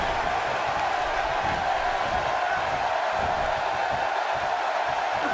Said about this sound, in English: you can't tell me this Portland crowd isn't fired up.